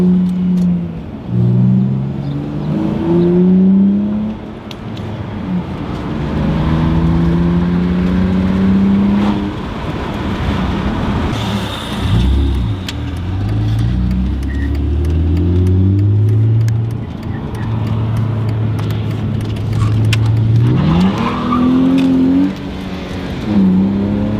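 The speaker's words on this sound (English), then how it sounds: "So the car is running much better now" A BMW car engine runs after a coil pack installation, idling close by and revving up and down in repeated swells, with no voices over it.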